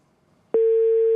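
A telephone busy tone after a call drops: a single loud, steady electronic beep starts abruptly after a brief quiet moment and holds to the end.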